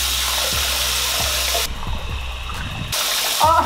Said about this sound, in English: I think we're supposed to put the shower on, though.